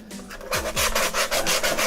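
Wood on a homemade bowed-guitar cello body is roughed up by sanding or filing for glue, a close, continuous scratchy rubbing in quick repeated strokes after a brief quieter start.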